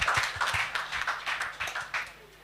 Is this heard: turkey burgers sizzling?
no